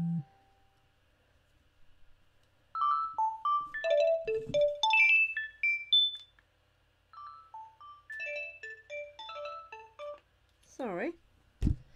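A home landline telephone rings with a melodic electronic ringtone, a cascading run of short tones repeating twice in a quiet room, close and clear, ending with a brief voice.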